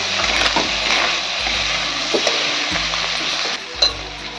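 Ground spices and chicken skin are stirred in hot oil in a pan, giving a loud continuous sizzle with repeated scraping strokes of a spoon against the pan at a steady rhythm.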